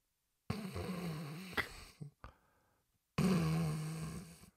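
A person imitates a reverse snore with two long, rasping snorts, separated by brief breathy sounds and a short pause.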